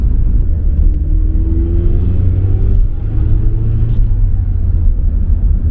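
A Mazda RX-7 FC drives along, its engine a steady low rumble and drone heard from inside the car, holding an even pitch throughout with no talk over it.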